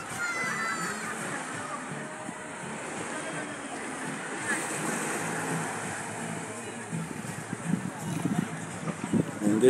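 Surf rolls onto Seven Mile Beach in Negril, Jamaica, a steady wash of waves and wind at a tourist beach, with people talking over it.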